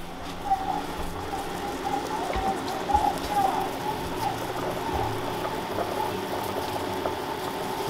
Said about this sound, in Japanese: 一回今ね、煮沸消毒、もう一回沸騰し直してます。